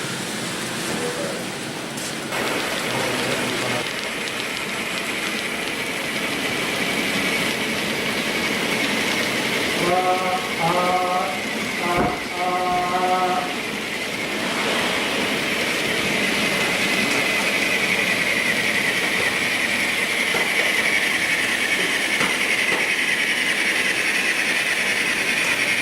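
An N scale model train on a layout rumbles continuously with a steady rolling hiss, and a short burst of horn-like tones sounds midway through.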